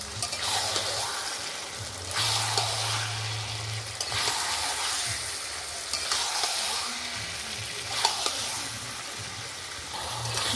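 Marinated country chicken hits a hot pan and fries with a steady sizzle, while a spoon scrapes and stirs in repeated strokes about every two seconds, close up and moderately loud.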